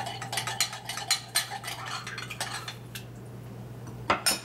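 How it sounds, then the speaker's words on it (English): A whisk or fork beats a salad dressing seasoned with salt and black pepper in a bowl, producing quick rhythmic clinks against the side. The clinks fade into a quieter pause and return with a final couple of taps. "Now we add 1 teaspoon salt and 1 teaspoon black pepper. Let's go whisk a little bit."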